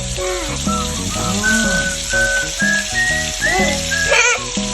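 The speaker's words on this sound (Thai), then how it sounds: "ทำกุ้งทอดเหรอคะ" Shrimp fry in a home kitchen pan with a steady, hissing sizzle like light rain, partly covered by tuneful background music with whistling melodic lines.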